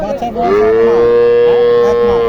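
A dairy cow bellows with one long, loud moo at a Naogaon cattle market, and a voice briefly sounds under the call.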